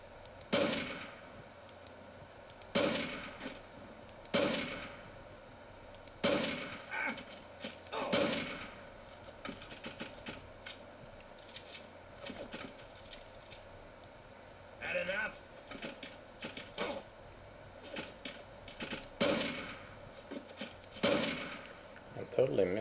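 Gunfire from Fallout 3 cracks out in repeated separate sharp bursts, loud and near, spread irregularly across the clip with a faint steady hum underneath and a voice talking quietly between shots.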